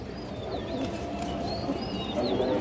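Pigeons coo steadily at a loft of show breeds, a dense, continuous low murmur with thin chirps rising over it, close and fairly loud throughout.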